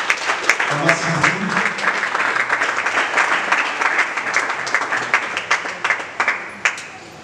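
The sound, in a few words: church congregation applauding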